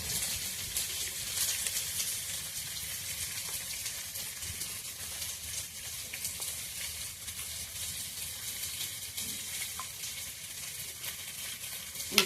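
Onions fry gently in a pan, a low, even sizzle that holds steady and fairly quiet throughout with no talking.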